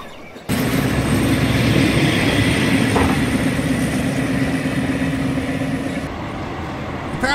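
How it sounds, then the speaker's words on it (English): A passenger train in Thailand, running between Nakhon Ratchasima and Khon Kaen, gives a steady, loud interior rumble with a constant low hum under continuous rolling noise from start to end. "it's a nice and comfortable train"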